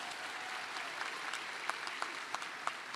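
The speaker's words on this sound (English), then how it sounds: "Give yourself a hand of applause." Graduates at a School of Natural and Social Sciences graduation ceremony applaud in a dense, steady wash of clapping from a large crowd, with a few sharper individual claps standing out.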